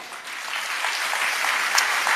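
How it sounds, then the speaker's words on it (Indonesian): A church congregation breaks into clapping during a sermon, a dense burst of many hands that swells over a couple of seconds and stays steady. "Jangan tepuk-tepuk tangan dulu"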